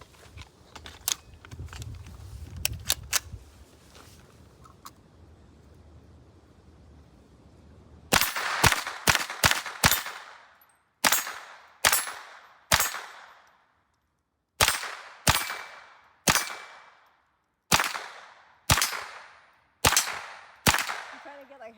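A .22LR rifle with a CMMG conversion and Franklin Armory binary trigger fires in rapid pairs and bursts of close, sharp cracks with short pauses between strings, after a stretch of quieter handling noise.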